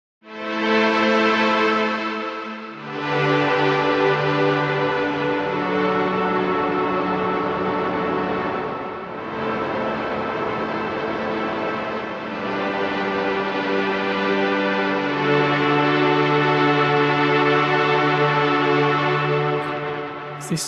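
A sustained synth pad from a Kontakt library with layered harmonic tones that slowly shift and swell, its timbre morphing steadily over time under modulation matrix control, with no voices.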